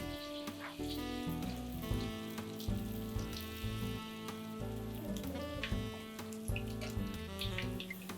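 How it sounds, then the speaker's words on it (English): Sepu Vadi, a Himachal Pradesh dish, deep frying in hot oil, giving a continuous close sizzle with dense crackling and popping throughout, no speech over it. "We are going to deep fry it till golden brown."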